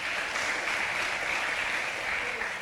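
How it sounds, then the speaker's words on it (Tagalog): Church congregation clapping together in a steady, dense wash of applause that holds for the whole stretch without pause, with no voices standing out above it. "Pwede ba natin palakpakan ng Lord?"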